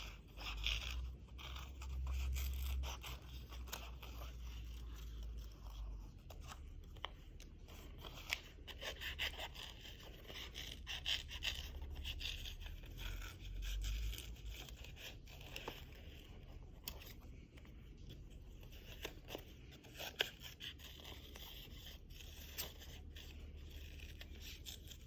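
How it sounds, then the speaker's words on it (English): Scissors snip and scrape steadily through a stack of paper layers, cutting out oval shapes for a Panama mola craft, close and quiet, with soft rustling of the paper and no talk. "we're going to cut out our 3 ovals while our papers are stacked up"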